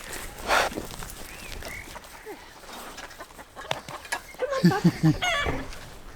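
Chickens clucking on a farm where pigs are kept, with scattered close clucks and calls, a louder burst of clucking near the end, under faint background noise.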